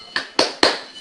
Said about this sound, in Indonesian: yuk kita lakukan tepuk semangat terlebih dahulu